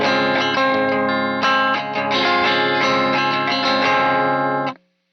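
Electric guitar played through a Friedman amp sim used as an IR loader, with light compression, EQ and a tape sim, distorted chords ringing steadily and loud for nearly five seconds, then cutting off abruptly.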